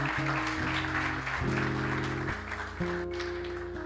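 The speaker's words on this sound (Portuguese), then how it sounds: "Pode aplaudir ao Senhor bem forte." A church congregation claps loudly and steadily for about four seconds, the applause layered over sustained keyboard or organ chords.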